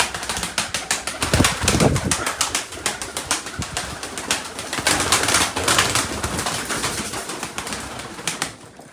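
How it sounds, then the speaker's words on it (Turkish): Pigeons kept in a loft, white birds, heard at close range with busy wing flapping and fluttering bursts and soft cooing, a dense continuous flurry of activity throughout. "Bunlar da Tekin Baba'nın kuşları"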